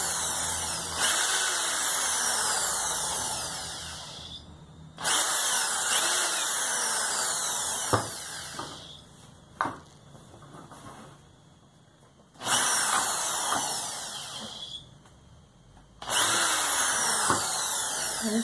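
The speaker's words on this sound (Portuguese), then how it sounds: "Troquei a broca e vou passar o furo aqui só para você ver" A power drill bores a hole in bamboo in four loud, whining bursts of a few seconds each, with quieter grinding and handling knocks between them.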